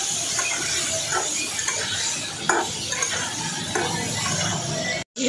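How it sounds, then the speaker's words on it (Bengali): Potato pieces frying with cumin seeds in a pan, a steady hissing sizzle close by with occasional scrapes and clinks of a spoon stirring, then a sudden brief cutoff near the end. "লাল লাল করে ভাজাবো"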